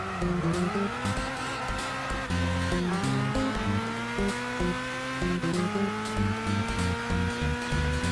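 A racing car in Gran Turismo 6 revs hard through a lap, its engine note rising and shifting steadily, with tire squeal mixed into the loud, continuous drone.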